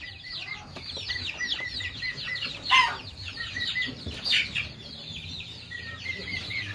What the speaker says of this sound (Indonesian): Tapi pagi ini saya melihat ada banyak ayam di kandang ini.